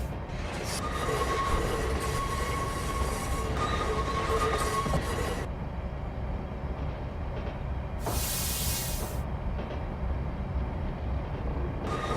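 An interurban electric train running at night on a San Francisco to Sacramento line in a train simulator game, a steady loud rumble of rolling wheels and motors with a brief high squeal partway through.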